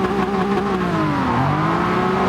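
Race cars including a Honda S2000, De Tomaso Pantera and Nissan GTR accelerate off the start of a classic cars race, a loud, continuous engine roar whose pitch climbs, dips briefly and climbs again.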